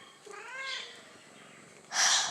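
A cat gives a rising meow, then after a short pause a louder, harsher second meow, both close and clear in a quiet room.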